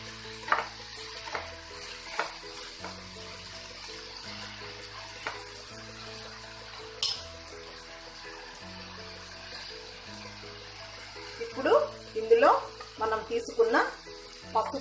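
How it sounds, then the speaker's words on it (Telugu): Raw banana pieces being stirred in a frying pan while they fry, giving soft intermittent scraping and sizzling under a steady background hum, with the stirring growing busier near the end. "ఈ అరటికాయ ముక్కల్ని ఒకసారి అంతా ఇలా కలిపేసేసుకుందాము"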